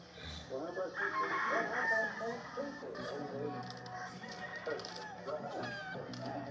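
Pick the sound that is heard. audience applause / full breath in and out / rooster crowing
rooster crowing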